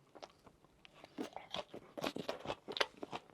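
Crunchy food eaten with plenty of wasabi, heard as close, quiet bites and chewing crunches in irregular bursts, with no talk over them.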